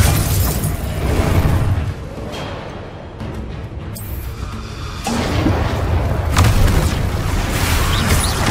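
Depulso spell effects cast in Hogwarts Legacy combat, dense booming blasts and crashing impacts layered over continuous loud battle noise, with a brief lull before the bursts swell again.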